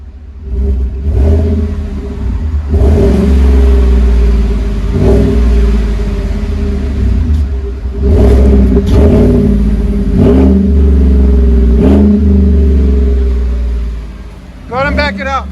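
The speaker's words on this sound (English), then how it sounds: "Give it gas, man!" A Chevy Silverado 5.3L V8 with a Flowmaster exhaust and resonator revs repeatedly, loud deep throaty bursts rising and falling over a steady rumbling idle, with voices talking between the revs.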